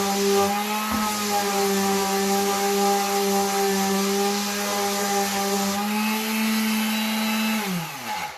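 A Black and Decker mouse sander runs steadily on a floorboard, a loud, even motor whine with a constant hum that holds for several seconds, then winds down and stops near the end.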